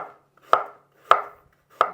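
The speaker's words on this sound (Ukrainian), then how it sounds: "Розділили навпіл яблука і будемо нарізати ось такими шматочками" Three sharp knife chops through apples on a cutting board, evenly spaced about half a second apart, close and crisp with quiet pauses between.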